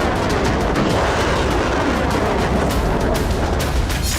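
A Zircon hypersonic cruise missile launches with a loud, continuous roaring blast that fills the whole stretch without pause or any voices.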